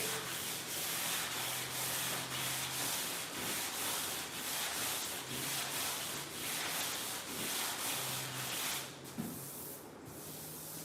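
Steady abrasive rubbing of a sanding block over a Dart 440 car body, continuous back-and-forth scraping that stays loud and close for about nine seconds before easing off.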